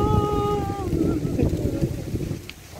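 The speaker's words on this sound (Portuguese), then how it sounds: "Olha que vento forte" Strong wind buffets the microphone in a steady, loud roaring rumble, with faint tonal sounds fading early and no clear talk.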